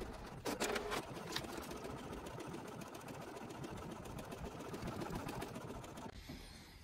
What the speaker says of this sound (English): fire up the old printer